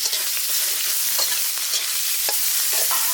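Mustard seeds fry in hot oil as a tempering for a sour mango curry with small fish and brinjal, a steady bright sizzle with scattered sharp pops and crackles, close and loud, with no talk.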